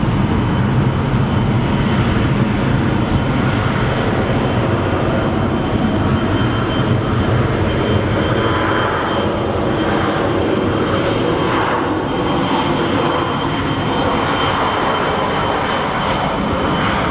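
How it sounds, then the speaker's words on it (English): A SkyWest Embraer regional jet at Phoenix Sky Harbor Airport gives off a steady, loud engine roar and rushing whoosh that holds throughout, with no talk over it. "This little SkyWest plane. These Embraers have really taken over the commuter jet market, like the regional jets."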